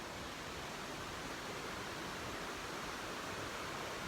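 Avalanche Brook, a mountain stream near Avalanche Lake in the Adirondacks, keeps up a soft continuous rushing hiss, faint and even, heard from a little way off with no talking.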